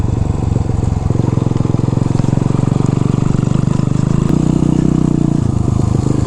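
A small Honda motorcycle engine runs steadily close by, with its revs stepping up at about one second and again near four seconds before easing back, with a constant buzzing, clattering idle throughout.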